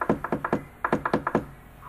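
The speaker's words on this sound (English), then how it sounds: "The wolf ran straight to the grandmother's house and knocked at the door." Knocking at a wooden door, two quick bursts of about six firm raps each with a short pause between them, close and clear.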